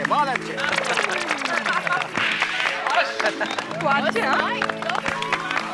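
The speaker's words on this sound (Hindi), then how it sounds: "जोरदार तालियां भाई इनके लिए" An audience in a sitcom scene claps in scattered, uneven bursts beneath near continuous talking and lively voices, the claps punctuating the chatter throughout.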